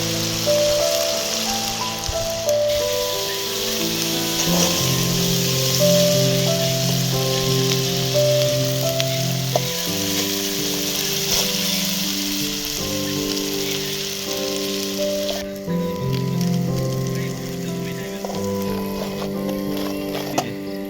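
Spices sizzle and fry steadily in a pan for a village-style soybean curry, a loud continuous crackle with background music playing over it.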